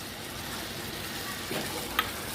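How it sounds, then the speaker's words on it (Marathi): Soaked, washed dal frying in a pan with mixed kala masala and Agri masala, giving a steady, fairly quiet sizzle that runs evenly throughout with a few small pops near the end. "मी डाळ अशी फ्राय करून घ्यायची"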